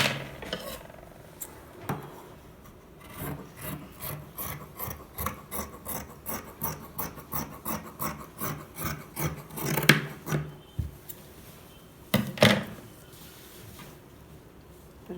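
Cloth being cut for a pillow cover, a rapid run of close, rasping snips and scraping strokes, quickening in the middle and ending with a few louder separate cuts.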